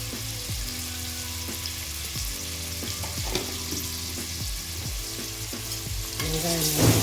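Onions sautéing in a hot pan with cinnamon and cloves for a makhana lotus-seed biryani, a continuous loud sizzle with repeated scraping stirs, the frying growing louder and busier toward the end.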